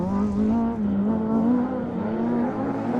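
Racing cars in a BRX rallycross race give a loud, sustained engine drone with steady harmonic whine, holding close and continuous throughout with slight rises and dips in pitch.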